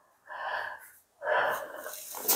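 A patient takes two deep breaths in and out through the mouth during a chiropractic examination, each breath an audible, airy rush lasting under a second, close and fairly loud with a brief pause between.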